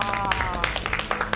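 A studio panel claps along over an excited dramatic narration about the Incheon landing; brief bursts of hand claps come in quick, uneven rhythm, close and fairly loud, mixed with voices.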